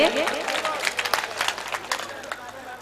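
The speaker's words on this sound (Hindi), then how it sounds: "देखें एक बार जोरदार तालियां बजाए इस मुशायरे के लिए" Applause and clapping from the crowd at an All India Mushaira poetry gathering in Champaran, Bihar, a dense patter of many hands filling the space, with crowd voices and murmur mixed through it.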